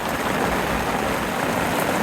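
Heavy rain pours down at an outdoor camp with an awning and a parked car. It makes a dense, even, close hiss that holds steady throughout, with no voices.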